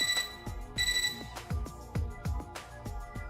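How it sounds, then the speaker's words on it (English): Bright electronic computer-terminal beeps chime twice near the start in the video game Fate/Extra, then give way to thumping, rhythmic game music with repeated low hits. "Our mutual silence is interrupted by my computer terminal's beeping."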